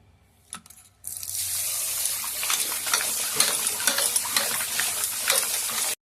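Cut fish is washed as running water pours and splashes steadily and close by, following a short soft knock and a moment of near silence, then cutting off abruptly.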